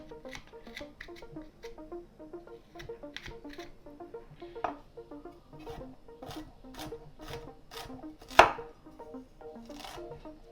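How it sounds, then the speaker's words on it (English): Ginger skin is scraped off a small nub with a spoon, giving faint, rapid rasping strokes in an irregular rhythm with occasional sharper scrapes, close and quiet. "this little nub of ginger, I'm just gonna peel off the skin with a spoon"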